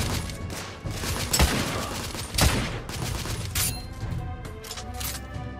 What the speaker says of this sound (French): Ah, ça c'est un fusil, ça.